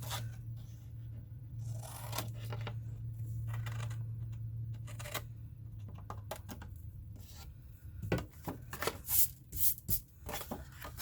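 Blade scoring and cutting lines into a paper box, short crisp scrapes and snips arriving in irregular bursts close by over a low steady hum, with rustling paper toward the end.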